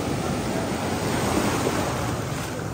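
Sea waves at Cox's Bazar beach make a loud, continuous wash of surf with wind buffeting the microphone, with no clear voices.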